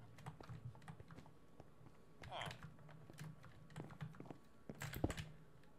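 Rapid computer keyboard typing during a Hypixel game, soft clacking keystrokes in uneven bursts with a couple of heavier thunks, quiet and close, with faint talk underneath.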